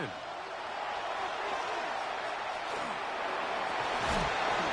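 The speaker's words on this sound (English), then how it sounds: "What about this crowd getting even louder before 3rd and 10?" Dense roar of a football stadium crowd during an NFL game between the Lions and Patriots, swelling steadily louder ahead of a third-and-ten play, with broadband cheering and no clear talk over it.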